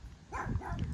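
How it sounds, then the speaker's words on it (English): A small dog barks in a backyard garden in Kingston, Ontario, giving a couple of quick, close yips in rapid succession. "Stop barking."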